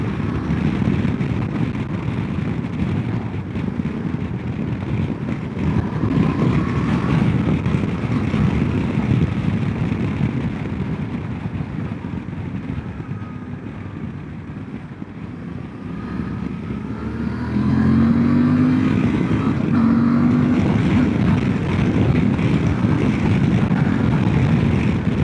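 A 2025 Suzuki V-Strom 800DE motorcycle pulls hard while being ridden, its loud engine roar mixed with heavy wind rush, easing briefly before surging again with rising engine tones near the end.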